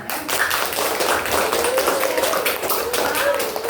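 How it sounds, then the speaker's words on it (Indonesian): Classroom audience clapping for student groups after a presentation on dances from Aceh province, a steady patter of hands running the whole time with voices talking over it. "Tepuk tangan dulu untuk setiap kelompoknya ya."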